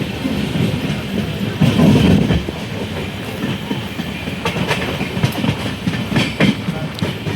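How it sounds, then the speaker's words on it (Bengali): An Indian Railways train runs at good speed near Malda, wheels clattering in a quick rhythmic clickety-clack over a steady carriage rumble, with a few louder knocks and rattles along the way. "ভালো স্পিডে কিন্তু ট্রেন"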